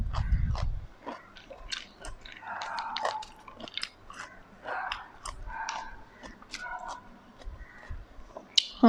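Close, wet chewing and biting on pickled shallots, soft crunches and smacking bursts repeating irregularly with brief pauses, a few sharp clicks near the end.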